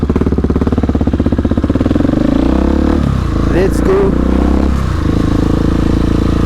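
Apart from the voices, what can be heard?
motorcycle engine riding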